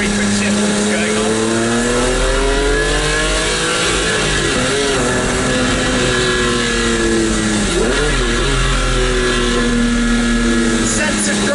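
A Maserati MC12 engine roars loudly and continuously from inside the car, its harmonic tone rising and dipping through quick gear shifts, dense and dominating with no pauses.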